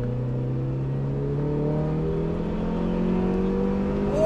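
A 1990s car engine revs steadily up toward the red line, its pitch climbing continuously and loud throughout as the throttle is held open, heard from inside the car.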